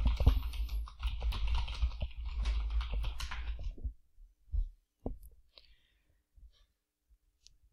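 Fingers type rapidly on a computer keyboard for about four seconds in dense, close clicking, followed by a few isolated key taps in near silence.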